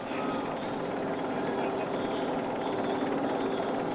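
A helicopter hovers overhead during the 2018 Paris-Roubaix cycling race, its rotor and engine a loud, steady broadband roar that fills the whole clip without letup.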